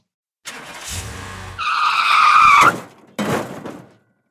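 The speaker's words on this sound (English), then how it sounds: "some really great car crash sounds" A car crash sound effect begins with a brief engine rush, then tires screech in a long, loud skid, followed by a short crunching impact that fades quickly into silence.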